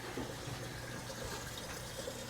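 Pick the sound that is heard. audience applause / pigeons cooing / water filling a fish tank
water filling a fish tank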